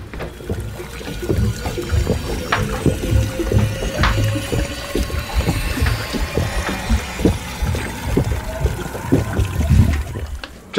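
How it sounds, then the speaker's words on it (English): A shower runs steadily during a quick rinse after a hot run, a loud continuous spray of water with irregular splashes and patters throughout. "Just hop in the shower for a quick rinse after that run"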